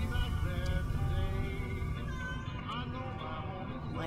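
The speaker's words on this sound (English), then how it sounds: "My cat's being really loud" A house cat meows loudly and insistently, its drawn-out wavering cries sounding close over steady game audio and someone talking.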